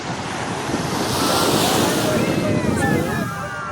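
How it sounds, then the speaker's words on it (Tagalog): Ocean waves wash steadily onto the shore at a busy East Coast beach park in Singapore, a continuous loud surf roar mixed with wind buffeting the microphone and faint people's voices in the background. "Andito na naman kami sa beach."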